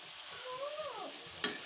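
Ginger-garlic paste stirred into a frying curry of climbing perch and stinging catfish with pointed gourd, a soft sizzle under a brief utensil scrape and a sharp clink near the end.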